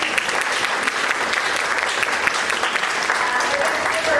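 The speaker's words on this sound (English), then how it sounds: "How about another round of applause for our audience?" A seminar audience claps together in a loud, even round of applause, many hands blending into steady noise over several seconds, with a few voices mixed in.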